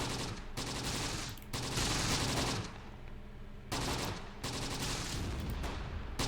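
Gunfire in the WWII wargame Close Combat The Bloody First, set in the Italian hills: dense bursts of rapid shots in several long volleys separated by short pauses, loud and continuous without talk.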